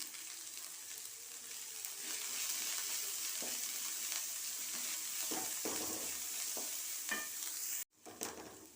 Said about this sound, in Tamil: கொஞ்சமாக உப்பு சேர்த்து வதக்கிக்கலாம்